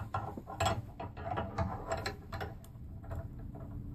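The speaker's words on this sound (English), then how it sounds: "Tighten down the clamp as far as it'll go." A flaring tool clamp being tightened down on a brake line gives a steady run of close, dry ratcheting clicks and mechanical ticks, evenly repeated throughout with no voices.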